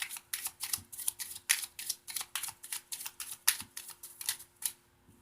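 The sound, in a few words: overhand shuffle of playing cards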